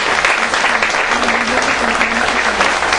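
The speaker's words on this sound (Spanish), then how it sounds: "primero un aplauso al doctor" An academic conference audience gives a doctor a loud, close round of applause, a dense and steady patter of many hands that fills the whole moment without a break.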